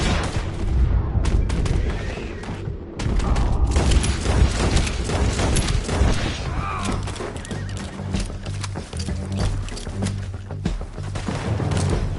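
Heavy gunfire in Red Dead Redemption 2, a dense western shootout of sharp repeated shots and booming blasts over about twelve seconds, with brief lulls and scattered impacts between volleys.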